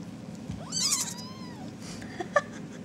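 RagaMuffin kitten about four and a half weeks old gives one clear rising-falling meow near the mic, followed by a few faint soft squeaks against quiet room noise.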